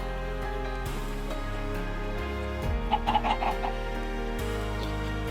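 Chickens in the video game Minecraft let out a short burst of quick clucks near the middle, close and brief, over continuous background music.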